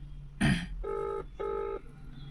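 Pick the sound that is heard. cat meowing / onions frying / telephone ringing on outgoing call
telephone ringing on outgoing call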